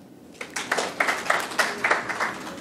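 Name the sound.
audience applause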